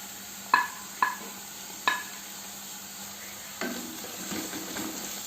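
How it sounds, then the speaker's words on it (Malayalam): Shallots, garlic and ginger fry in a pan for a Lakshadweep-style dry tuna roast, a soft steady sizzle broken by a few sharp clinks of a spoon against the pan, with the frying growing a little louder toward the end. "ചുവന്നുള്ളിയും വെളുത്തുള്ളിയും ഇഞ്ചിയൊക്കെ നന്നായി മുരിഞ്ഞ് വന്നിട്ടുണ്ട്"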